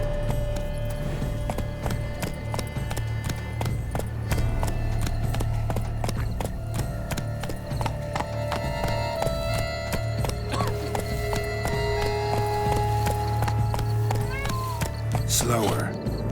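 Horse hooves clip-clop steadily throughout a ride in The Witcher 3, with the animal whinnying and background game music, while characters talk over the hoofbeats.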